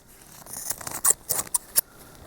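Scissors snip crochet thread while a piece is finished off after a slip stitch: a handful of sharp, close cuts spaced irregularly over faint background hiss.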